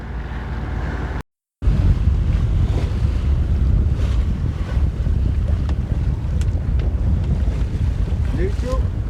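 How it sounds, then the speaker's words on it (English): A sailboat heels under sail in strong wind, with a loud, continuous roar of wind buffeting the microphone and water rushing past the hull, the sound briefly cutting out near the start. "the wind has filled in, so we're about to get sailing again"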